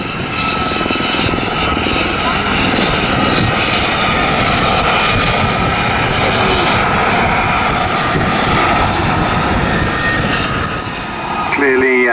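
Helicopters and other aircraft flying at the Southport Airshow, a loud, steady rotor and engine roar that fills the whole stretch, with a commentator talking over it.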